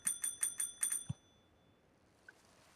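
A bicycle bell in a video game rings in a quick burst of about six bright trills, then stops, leaving a quiet background.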